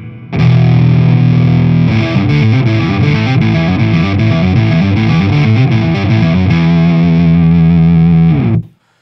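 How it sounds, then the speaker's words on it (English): Electric guitar, a Les Paul on its rhythm pickup through a Boss OC-3 Super Octave pedal with amp distortion, a thick, buzzy synth-like tone playing a steady riff for about eight seconds before stopping abruptly. "thick saw wave synthy sound there"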